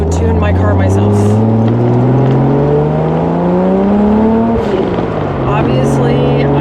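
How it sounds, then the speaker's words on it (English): A supercharged 1JZ VVTi car at wide open throttle: close, loud engine rising steadily in pitch, then a sharp break as the transmission downshifts with an audible clunk before the revs climb again. "everyone can hear the sound that my transmission made when I was downshifting"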